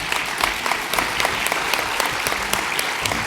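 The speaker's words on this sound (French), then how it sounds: "on peut les applaudir." An audience at a citizens' public assembly in Aiffres, France, claps warmly in steady, dense applause, loud and close with no talk over it.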